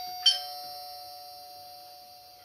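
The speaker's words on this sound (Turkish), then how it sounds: "Zil tekrarı ötecek, çalacaktır." A wired, battery-powered doorbell mounted beside a wireless one gives a single chime that rings out and decays slowly over the next two seconds. It is clear and close, with no talking.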